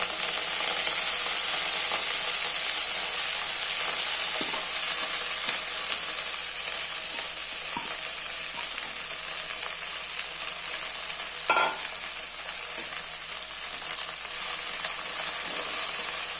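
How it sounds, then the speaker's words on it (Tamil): Fresh coriander leaves frying and being stirred in oil for a coriander thokku, with a continuous bright sizzle throughout and an occasional scrape or clack of the spoon, no speech. "இப்போ நம்ம இந்த எண்ணெயிலேயே இந்த கொத்தமல்லி இலையும் போட்டுக்கலாம்"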